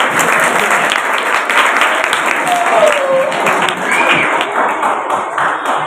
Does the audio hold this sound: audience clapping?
yes